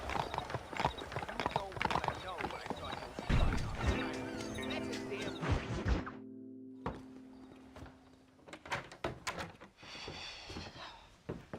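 Horse hooves clip-clop at a gallop in the Red Dead Redemption video game, a steady rhythmic beat running under loud game music and effects, with a thump and brief fadeout midway.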